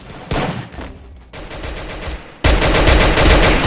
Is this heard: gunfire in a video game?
yes